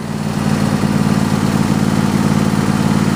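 A John Deere E120 riding mower engine idles at low throttle after running hot, giving a steady, loud, close-up low-pitched putter with no talk.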